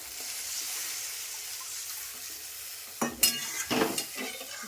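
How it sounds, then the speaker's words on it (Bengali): Water poured into a kadai of hot, well-fried spice mixture bursts into two sharp, loud sizzling surges partway through, rising over a steady low frying hiss. "কড়াটা কষানো হয়ে গেছে, আমি একটু জল দিয়ে দিচ্ছি এখন।"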